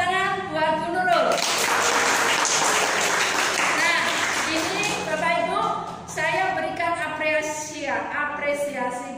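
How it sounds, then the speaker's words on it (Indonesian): Workshop participants clap for a teacher, Bu Nurul, a burst of group applause in the middle, with people talking loudly before and after it. "Tepuk tangan buat Bu Nurul"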